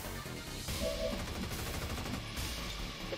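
Rapid area-suppression gunfire rattles in XCOM 2, a dense burst of close shots lasting a few seconds over game ambience.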